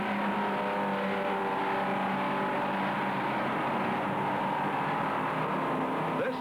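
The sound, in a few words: 1965 Sebring Grand Prix race car shifting and accelerating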